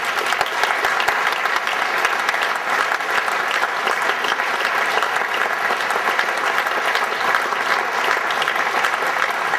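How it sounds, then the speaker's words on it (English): Dense, loud, sustained applause from the audience at a BCA Hall of Fame induction ceremony, honouring board members as they stand; continuous clapping fills the whole stretch with no pause. "Would you give them a round of applause?"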